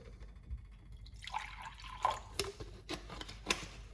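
Water trickles and splashes softly into a container, with a few small drips and clinks, quiet and close.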